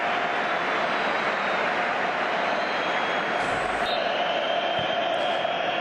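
A stadium crowd at the Santiago Bernabeu applauds a departing Real Madrid player during a match against Espanyol, a steady, dense roar of clapping and noise that holds throughout under a commentator's voice.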